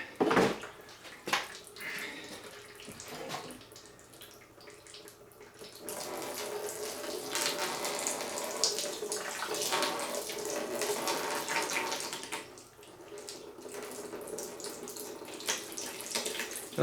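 Coolant pours out of a Ford 4.6 Triton V8 in a Ford Expedition during an engine teardown, a splashing gush of liquid that swells into a steady stream, then thins and trickles near its end.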